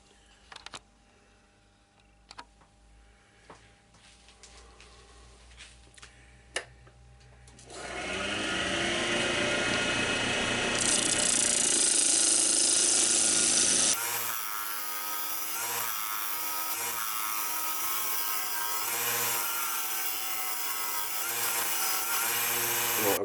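A wood lathe turns pine while a tenon is shaped and cut. A few quiet clicks and taps come first, then the machine starts up into a loud, steady whirring hum with shifting cutting noise layered on top.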